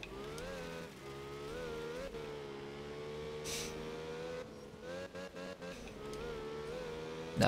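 Rally car engine from a Group 4 car racing a stage at San Benedetto, Sardinia, in the game Art of Rally, a steady loud harmonic drone that rises and dips with revs and gear shifts, with no talk over it.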